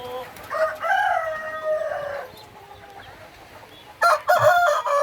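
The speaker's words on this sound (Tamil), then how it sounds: "இது வந்து நாட்டுக்கோழிகள், கருங்கோழிகள்." Native black chickens cluck and crow nearby on a farm in a short busy stretch, then a quieter pause and another burst of fowl calls.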